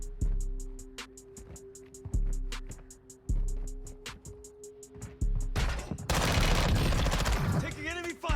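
Gunfire in the video game Warzone 2.0 on Ashika Island: repeated loud bursts of shots at steady intervals, then a dense, chaotic barrage of overlapping fire and impacts near the end, with voices calling out over it.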